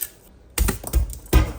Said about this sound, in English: I'm going to just peel and actually mash it in a pestle and mortar